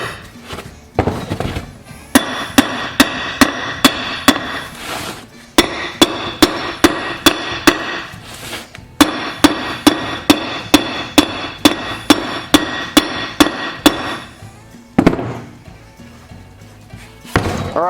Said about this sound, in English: So you take a hammer and beat around the edge of the wheel.